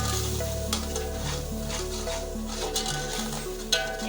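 Onions fry with a chilli, garlic and ginger masala for a chicken and chana pulao, a soft continuous sizzle under a steady background tone, with an occasional clink near the end.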